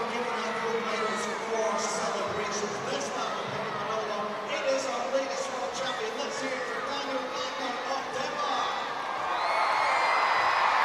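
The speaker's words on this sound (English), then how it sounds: "So the crowd enjoying themselves." Stadium crowd at the World Para Athletics Championships in London, a distant, sustained murmur of chatter and cheering with scattered whoops under a commentator's voice, swelling louder near the end.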